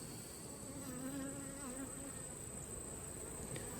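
Honeybees buzz at a set of somewhat aggressive hives, a close, continuous drone with individual bees whining past over a high steady tone.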